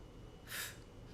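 A single short, gentle nasal sniff, a soft airy hiss lasting a fraction of a second, performed as part of a breathing exercise for singing, faint and close with no talk.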